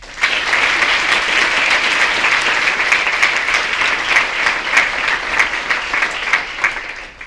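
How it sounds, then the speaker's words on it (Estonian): A school concert audience gives a full, steady round of applause at a school-day and Independence Day assembly, the dense clapping sustained throughout before loosening into separate claps at the end. "Aplaus!"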